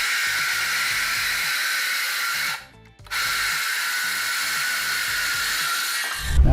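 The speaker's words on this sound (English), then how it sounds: "that piece of 3/4 inch plywood was a little heavy for my cordless saw, so that's why it kept stopping on me" A cordless circular saw cuts through a 3/4 inch sheet of plywood with a loud, high whine that cuts out briefly partway through as the motor stalls, then spins back up and ends in a low clunk.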